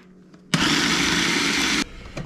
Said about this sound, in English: we're just going to put those in a food processor here